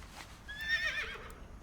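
A horse in World of Warcraft gives a short, high whinny over a faint, steady game background, with soft hoof clops nearby.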